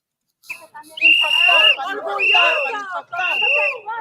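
Shrill whistles blown at a protest sound in three sustained blasts, each about half a second to a second long, over loud shouting voices from a crowd.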